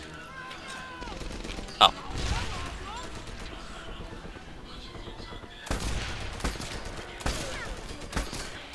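Sporadic gunshots from the video game Medal of Honor Airborne, with a sharp crack early and scattered bursts later amid game ambience, while someone talks over them.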